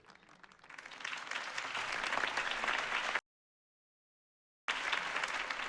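A crowd applauds after a mayoral campaign speech, clapping building to a steady dense roar, then cutting off abruptly into silence before resuming just as strongly.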